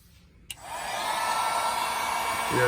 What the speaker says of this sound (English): grabbing the heat gun